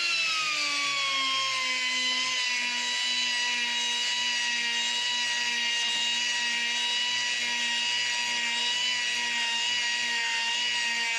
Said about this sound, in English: a little bit of grinding